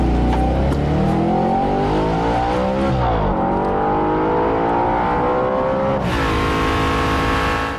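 An Audi sports car engine revs hard, pitch climbing and dropping through gear changes, then surging again, loud and close at trackside with no talking.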